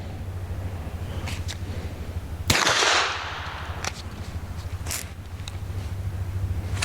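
A single sharp gunshot from a Nomad Defense G26X pistol cracks out loudly and close, with a brief ringing tail, over a steady low hum and background noise.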